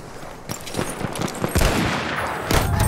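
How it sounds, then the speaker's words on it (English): Enemy machine gun fire in a Battlefield 1 battle in the Argonne Forest: rapid bursts of shots crackle loudly and close, building into a dense, heavy volley near the end. "There! Enemy machine gun!"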